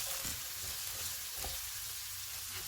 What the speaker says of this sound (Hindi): 2 सब्ज़ मिर्चें, 1/3 कप शिमला मिर्च। इनको 2 मिनट तक भूनेंगे।